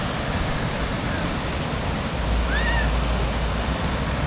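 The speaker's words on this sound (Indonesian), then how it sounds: "Sekarang aku ada di Pantai Kuta" Surf rolling in at Kuta Beach, Bali, a steady broadband wash of breaking waves with wind noise, constant and close throughout.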